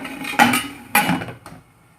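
A metal pressure cooker lid set onto the pot while mutton biryani cooks: a sharp clank, a second clank about half a second later, then a faint tap, close and without talk.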